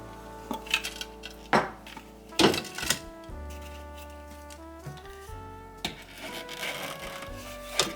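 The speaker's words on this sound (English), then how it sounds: "Scraping out anything that's left on the bottom." Leftover cherry mixture for chocolate covered cherries is scraped from a bowl, making sporadic close scrapes and clinks of a utensil against the dish, with quieter rubbing between the sharper knocks.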